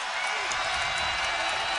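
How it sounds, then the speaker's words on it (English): Crowd noise fills Pinnacle Bank Arena late in a Nebraska vs Oregon Big Ten basketball game, a dense, loud, sustained roar of cheering with no break. "Here comes the crowd."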